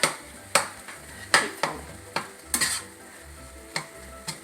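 Chopped cooked meat sizzles softly in a pan while a utensil stirs it, making about a dozen separate scraping clacks at an uneven pace over a faint, steady frying hiss.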